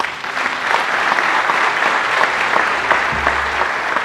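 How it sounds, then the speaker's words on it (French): Dense, steady applause from a large crowd at a political rally in Kisangani, Democratic Republic of the Congo, sustained loud clapping for the full length, no voices heard. "Et si on applaudissait encore bien fort pour Maître Tristan Mavungu"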